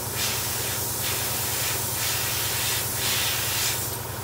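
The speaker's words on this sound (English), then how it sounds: "a slower pass with a trigger pull further back, so you're applying a heavier coat of paint" A trigger sprayer hisses continuously while laying a heavy wet coat of paint on the bonnet of a 1:32 Airfix Ford Escort Mk1 model car, a loud steady spray with slight rhythmic surges as the passes sweep.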